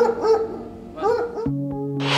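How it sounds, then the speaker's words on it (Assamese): A pet dog sitting on a hotel owner's chair in Koliabor barks in a few short, close bursts, followed by a sharper yip and a burst of noise at the end. "হোটেলৰ মালিকৰ চকীত এটা মৰম লগা কুকুৰ"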